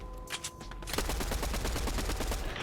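Rapid automatic gunfire in the Fortnite Battle Royale video game, a few scattered shots at first, then a dense, continuous burst of fire, fairly close and loud, with no talking.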